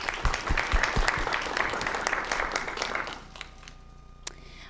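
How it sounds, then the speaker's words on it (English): A student climate summit audience gives a round of applause, dense clapping that holds steady for about three seconds and then fades to scattered claps and room quiet. "Well, let's give one more round of applause."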